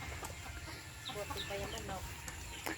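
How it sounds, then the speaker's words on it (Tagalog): Chickens on a provincial farm in the Philippines clucking in short, repeated, fairly faint calls over a steady outdoor background. "Ito po yung chicken"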